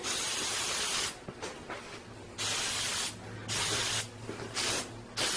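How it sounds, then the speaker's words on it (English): Aerosol spray paint or adhesive hisses in four close, loud bursts of about a second each as it coats the sides of a tarp for a DIY stealth-camping shelter, with short pauses between bursts. "I'm going to spray"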